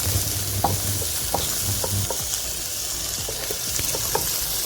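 Onion frying in a pan with sweet corn and beans for Mexican rice, a steady sizzle under scraping strokes of a spoon stirring the mix, with intermittent clinks and a few low rumbling bursts.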